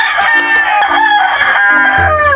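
A rooster crows loudly and close in a backyard chicken coop, a long drawn-out call with a wavering tone, while hens cluck faintly around it.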